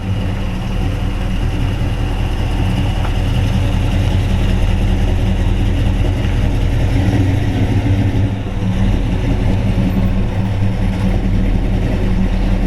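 A 1956 Chevy 210/Bel Air two-door resto-mod with a ZZ4 350 V8 idles loud and close, a deep steady rumble with a slight dip near the end.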